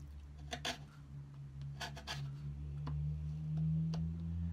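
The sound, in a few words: chisel paring wood on antique writing slope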